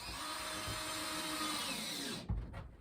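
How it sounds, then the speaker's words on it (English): A power drill whines steadily for about two seconds as it bores through fiberglass, then cuts off with a thud and clatter. "first we have to drill through the fiberglass, otherwise it'll crack"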